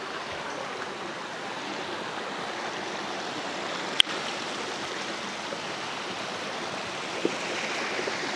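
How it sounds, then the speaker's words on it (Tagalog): Continuous rushing water from a small cascade above Cadmon Falls in Magallanes, Cavite, a broad steady roar with a single sharp click partway through. "Dito mayroon pang mga mini falls dito."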